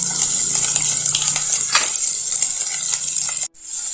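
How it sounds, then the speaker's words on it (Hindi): Finely chopped onion fries in a pan for masala vermicelli, giving a steady bright sizzle with scraping stir strokes and soft clinks of the spoon against the pan, until the sizzle cuts out briefly near the end and then resumes. "प्याज को हमें यहाँ पर 2 मिनट तक ही भूनना है, जिससे इसका कच्चापन चला जाए।"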